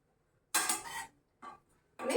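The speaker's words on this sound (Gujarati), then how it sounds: "આપણે ચમચાની મદદથી એને હળવા હાથે મિક્સ કરીશું" A spoon gently mixes stuffed okra (bharela bhinda) in a pan, giving three short, close scraping and clinking bursts separated by silence.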